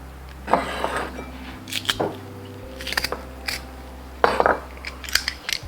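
Two large garlic cloves are squeezed through a press into a bowl, giving several close, crunchy squishing bursts separated by short pauses over a low steady hum.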